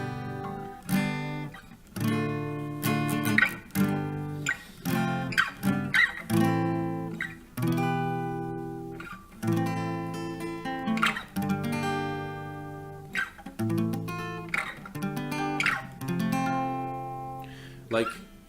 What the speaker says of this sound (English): I'm just randomly playing chords.